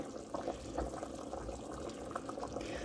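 Yellow split pea and ham soup boiling in a pressure cooker on its saute setting, a soft continuous bubbling and gurgling of liquid, close but quiet.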